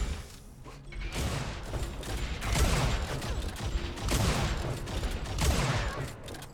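Dense, continuous combat noise from an Unreal Tournament match, heavy booming blasts and mechanical clatter overlapping without pause, loud and close throughout.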